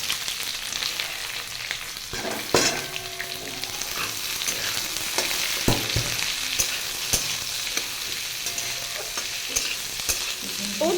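Onions sizzle in hot oil with whole spices such as bay leaf, cinnamon, cloves and cardamom, a steady close frying hiss broken by sharp clatters of stirring, with no talk.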